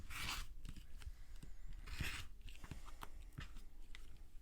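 Quilt block being trimmed, likely with scissors or a cutter along a ruler: a few close, crisp cutting and rubbing strokes in an otherwise quiet room, no talk.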